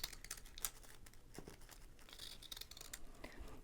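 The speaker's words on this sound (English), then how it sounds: "use pinking shears or zigzag decorative scissors to cut all around the edge" Pinking shears snip around the edge of a stack of tissue-paper circles, giving quiet, rapid close-up cutting clicks mixed with soft paper crinkling and no talk.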